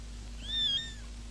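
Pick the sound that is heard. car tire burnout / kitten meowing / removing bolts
kitten meowing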